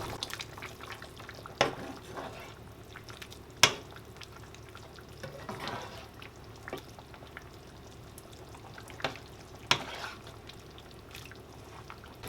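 Thickener is stirred into a pot of simmering lamb stew, with a soft bubbling, wet sloshing bed and occasional sharp clinks of the spoon against the pot.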